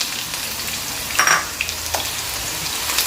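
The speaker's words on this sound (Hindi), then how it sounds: "हल्का सा इसको साते करेंगे" Onions fry in oil with browned cumin for kadhi pakora gravy, a steady close sizzle with light spatula scrapes and a brief brighter crackle near the start.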